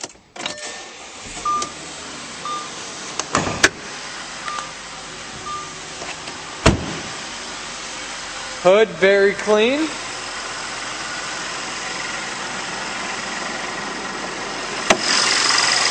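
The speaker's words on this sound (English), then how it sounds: "And now let's start her up." A 2008 Audi A6 engine cranks, starts and settles into a smooth steady idle, with a few clicks and short bursts of sound along the way and a man's brief speech.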